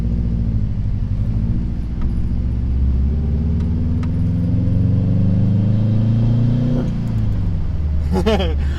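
A Subaru STI engine rumbles steadily while driving, with low drone and shifting pitch as it accelerates, plus a brief higher whine near the end.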